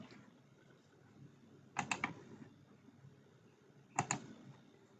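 Two short bursts of keys tapped on a computer keyboard during an HTML lesson, each a quick cluster of clicks, close and fairly loud over a steady low room hum.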